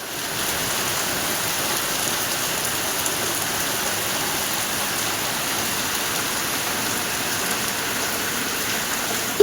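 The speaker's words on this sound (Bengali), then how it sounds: "দেখা যাক কি জোরে বৃষ্টি হচ্ছে" Heavy rain pours down steadily outdoors, a dense, unbroken hiss and patter that is close and loud throughout, with no voices.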